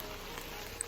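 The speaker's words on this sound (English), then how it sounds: "Rain's coming down again, heavy." Heavy rain pours down steadily on a lakeside camp, a dense, even hiss of drops with a brief sharper patter near the end and no voices.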